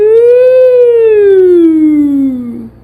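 A voice imitates a police car siren with one long, loud wail that rises slightly and then slides steadily downward before fading out.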